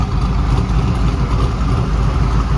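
A Corvette C5 Z06 engine, freshly rebuilt and upgraded, idles steadily in a low, even rumble with a smooth continuous pulse, close and fairly loud with no voices over it.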